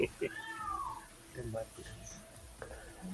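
A house cat yowls loudly in drawn-out, wavering cries, with people talking nearby over and between the calls.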